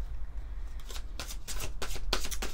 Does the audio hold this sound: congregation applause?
no